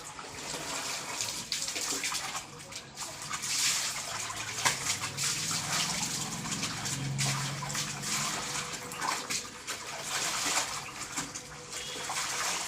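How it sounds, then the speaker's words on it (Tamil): Clothes being rinsed by hand in water, with steady sloshing and splashing that runs without pause and no talking. "நல்லா அலசு வேடிக்கை பார்த்துட்ருக்காத"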